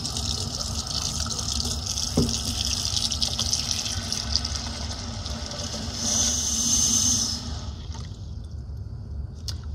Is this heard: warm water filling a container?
yes